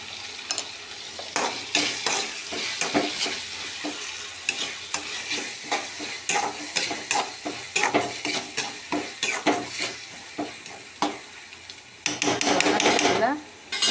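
Tomatoes sauté in a pan with salt while a utensil stirs them, giving a steady close sizzle broken by frequent scraping and knocking strokes against the metal, louder toward the end.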